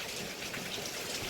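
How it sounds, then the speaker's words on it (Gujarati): Heavy monsoon rain pours down steadily at close range, a dense, continuous hiss of drops drumming on surfaces with no pauses and no voices. "જોરદાર વરસાદ"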